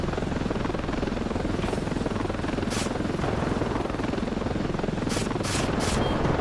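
Helicopter flying in a video game, a steady dense rotor chop that runs throughout at constant loudness with a few faint higher clicks near the end.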